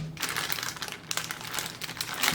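A diamond painting package from SPanyDeals being opened, with close, loud crinkling and crumpling of plastic wrapping in irregular bursts, no talk.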